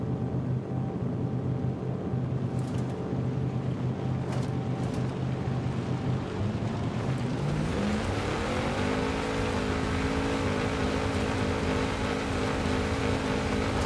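A Jeep engine drones at full throttle in Forza Horizon 5 as it struggles up a steep slope, a constant loud roar whose pitch climbs partway through as revs rise, with no talk.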